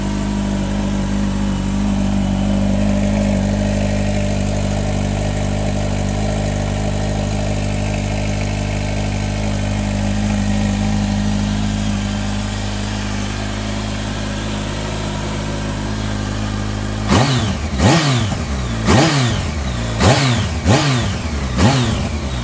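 A 2006 Kawasaki ZX14 Ninja, fuel-injected and started from cold, idles with a loud, steady, close rumble for a long stretch, then gives a series of sharp revs that climb and drop back one after another.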